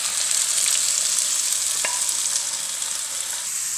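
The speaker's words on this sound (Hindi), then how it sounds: "अब मैं प्याज डालती हूँ।" Onions hitting hot oil in a pan on a stove sizzle steadily and loudly up close, a continuous bright hiss with one brief stir or clink, no talking.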